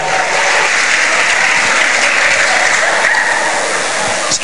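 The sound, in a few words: audience applause for comedian Ferry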